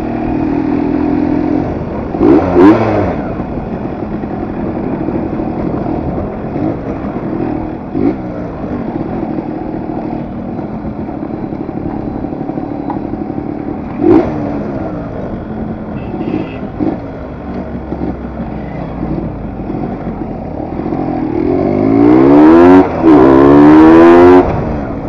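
Well-maintained Yamaha RX-100 two-stroke motorcycle on a short ride: a steady, buzzing engine note heard up close throughout, with several sharp revving surges and a strong acceleration near the end.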